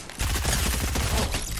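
Rapid bursts of Fortnite gunfire crackle continuously for over a second, loud and dense, like automatic weapons firing in quick succession.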